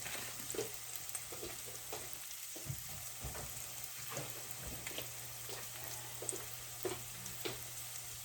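Liver sizzles in olive oil in a pan, a steady crackling fry with scattered pops and spatters throughout, close and continuous, with no voices.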